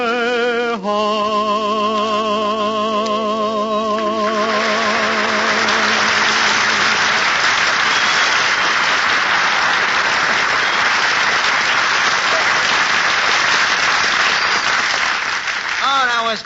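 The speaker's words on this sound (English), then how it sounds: "Eddie, did you hear that clapping? They loved the kid." Studio audience bursts into loud, sustained applause for a singer at a tavern comedy broadcast, rising as the final sung note fades and continuing as a dense wash of clapping for over ten seconds.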